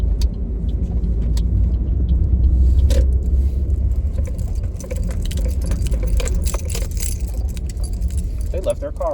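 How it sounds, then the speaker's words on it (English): A parked car left running with nobody inside gives a steady low engine rumble close by. Keys jangle partway through and a few faint knocks and clicks sit on top of it. "They left their car on"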